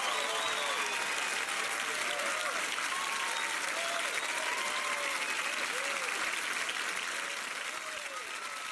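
A theatre audience at an Indonesia's Got Talent show applauds for a singer, with sustained loud clapping, scattered whistles and cheers throughout.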